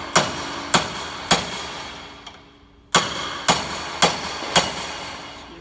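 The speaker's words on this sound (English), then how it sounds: "take a hammer and punch" Sharp metallic hammer blows on a punch while rebuilding a hydraulic cylinder, three in quick succession, a pause with a faint tap, then four more evenly spaced strikes ringing close by.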